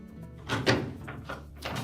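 Maytag washer door being slid onto its hinge pins, a few soft scraping thunks and knocks of the panel shifting into place, close and moderately quiet.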